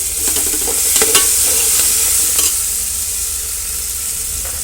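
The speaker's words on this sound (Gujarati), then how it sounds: "1 ચમચી જેટલું મીઠું ઉમેર્યું છે અને ત્યારબાદ હલાવી લઈએ" Masala khichdi is stirred with salt in a pot, a loud and steady sizzle with several quick spoon scrapes early on, heard up close.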